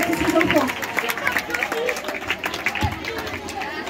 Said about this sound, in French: vous pouvez vous applaudir déjà